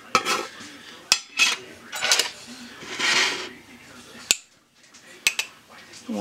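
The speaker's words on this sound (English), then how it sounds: "I'm going to use a fork to mix it." A fork mixes melted butter and sugar in a bowl, close up, with scattered sharp clinks against the bowl and brief scraping swishes coming in irregular bursts.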